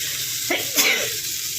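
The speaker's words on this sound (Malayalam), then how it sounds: "തുമ്മൽ വരുന്നു" A single close sneeze bursts out in a kitchen where fiery kanthari chillies are frying for an omelette, sharp and brief over the faint background sizzle.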